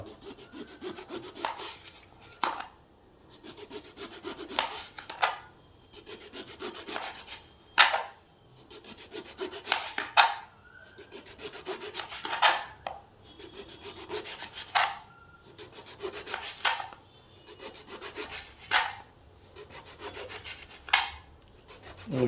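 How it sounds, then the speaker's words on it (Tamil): A knife cuts brinjal into large chunks, producing rhythmic rasping, sawing strokes about every two to three seconds, close and fairly loud, with no voices. "பெரிய பெரிய பீஸாக கட் பண்ணிங்க"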